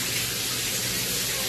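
Water rushing from a Lorenzetti Advanced Turbo electric shower running with a pressurizer, a close, loud, steady hiss of spray with no break.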